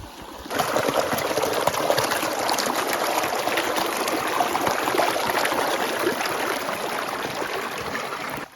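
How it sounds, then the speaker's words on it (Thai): A waterfall flows in a steady, broad rush of water, close and continuous after a brief quieter start, with no voices over it. "น้ำตกเนี่ยยังไหลมาอยู่นะ"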